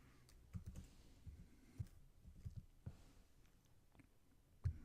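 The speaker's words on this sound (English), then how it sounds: "now we're going to be typing in that long administrator password that we just typed in to log into the system" Someone types a long administrator password on a computer keyboard while logging into a remote system. The keystrokes come as irregular soft clicks and taps, close to the microphone. No one speaks.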